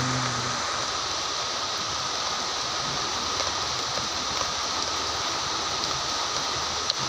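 Heavy rain pours down steadily, a dense, even hiss of falling water with no pauses, close and fairly loud, with no voices.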